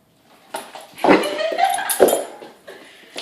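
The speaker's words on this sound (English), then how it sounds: "Big old dog afraid of a balloon." A large Great Dane puppy whimpers close by, afraid of a balloon, with a series of high, whiny cries and short yips between quieter pauses.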